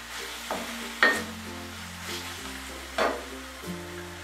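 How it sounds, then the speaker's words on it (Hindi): Fried rice sizzles steadily in a hot pan while Schezwan sauce is stirred through it, with a few distinct scraping strokes of a spatula over a constant low frying hiss and background hum. "अब इसमें मैं सेजवान सॉस डाल दूंगी और इसे भी अच्छी तरह से मैं"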